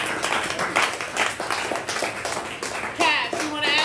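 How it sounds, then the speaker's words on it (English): Audience clapping during a podcast recording, a short burst of close, rapid hand claps with voices and cheering mixed through it. "Let's give a round of applause"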